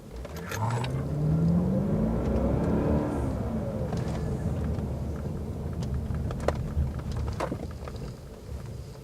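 A car accelerating forward from a standstill, its engine note rising steadily and loud close up, with a continuous road and engine rumble through the whole stretch and no talk over it.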